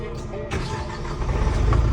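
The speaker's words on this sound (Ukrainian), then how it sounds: "Заводиться машинка з півтичка" A JAC truck engine catches and starts up close by, a sudden burst of rumbling that settles into a running idle, with a voice audible underneath.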